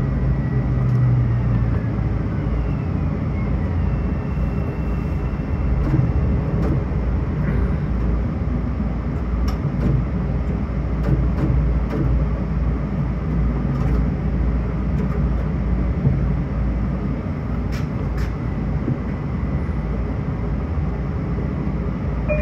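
Commuter train riding from Long Beach toward Penn Station, a steady rumble and rolling noise heard from inside the car, with scattered clicks and clacks over the rails.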